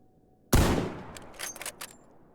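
A single sharp gunshot in a first-person shooter video game rings out, followed by a short decaying tail and a few faint crackling impacts, alone without talk.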